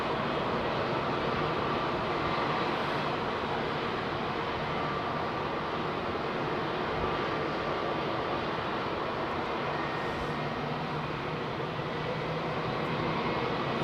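Jet aircraft taking off at London Heathrow Airport, heard as a broad, continuous engine roar that stays steady and loud throughout, with no voices.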